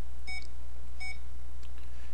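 Two short electronic beeps, evenly spaced, from a nearby security alarm control panel keypad as a key is pressed, over a steady low hum, followed by fainter electronic chirps.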